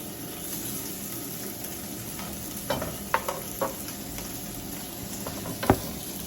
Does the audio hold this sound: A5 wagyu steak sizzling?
yes